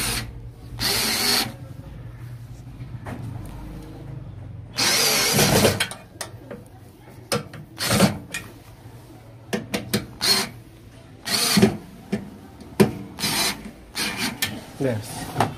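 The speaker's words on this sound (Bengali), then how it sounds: "এই যে দুটো স্ক্রু লাগিয়ে দিলাম আমরা।" A power drill drives screws while a new magnetron is fitted into a microwave oven, with several loud bursts of whirring separated by quieter scraping and tool handling, close up.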